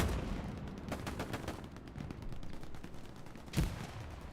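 Bursts of gunfire from a war video game, dense rapid shots with a sharper louder report near the end, carrying across a continuous noisy battlefield backdrop.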